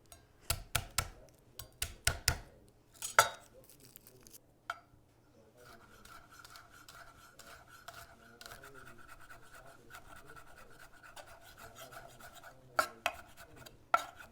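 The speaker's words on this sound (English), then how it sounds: "I'm also going to mince 2 cloves of garlic." Two garlic cloves being minced with a knife on a board: a quick run of sharp, close taps, then a low hum with faint scraping, and a couple more crisp chops at the end.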